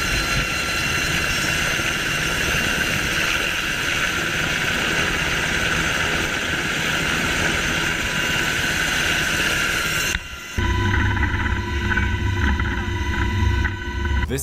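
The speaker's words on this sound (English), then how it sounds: "This helicopter rescuing people from a sunken boat" Helicopter hovering over water during a rescue from a sunken boat: a loud, steady rotor and engine roar runs unbroken for about ten seconds, then drops away into a different, lower engine hum.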